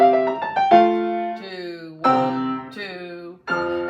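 Piano plays the closing bars of a Beethoven sonatina: a few quick notes, then sustained chords that slow and ring out, clear and close with no talking.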